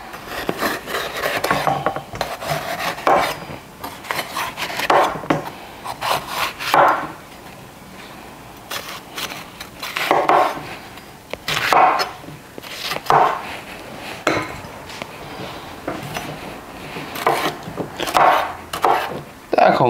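A knife chops a bell pepper into thick cubes on a cutting board, with repeated scraping thuds in irregular bursts, close and fairly loud.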